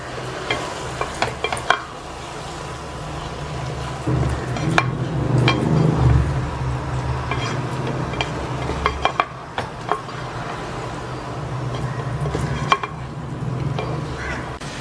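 Rice being stirred and fried in oil for mushroom biryani: a continuous close sizzle with repeated scraping and clinks of a spoon against the pot, steady and fairly loud, no voices.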